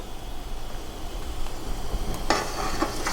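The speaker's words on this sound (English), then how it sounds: "we're going to mix at the same time while we add it in our eggs" Crab and asparagus soup bubbles at a boil while a utensil stirs through the pot as eggs are added, with a brighter splashing, clinking burst near the end.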